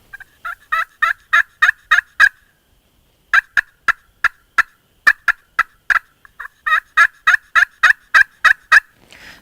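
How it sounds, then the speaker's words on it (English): A slate turkey call played by hand, loud close yelping in quick runs of sharp notes separated by brief pauses, with no voices. "So one of my favorites is a slate call."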